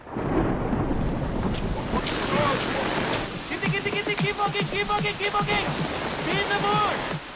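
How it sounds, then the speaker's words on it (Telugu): Steady rain hisses and thunder rumbles through an outdoor film shoot, loud and continuous, with voices talking and calling over it. "బ్రో వర్షం పడేలా ఉంది బ్రో"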